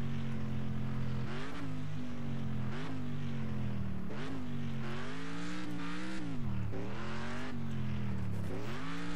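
A car engine in a next-gen racing video game revs continuously while driving, rising and falling in pitch through repeated gear shifts, loud and steady throughout, with no talking.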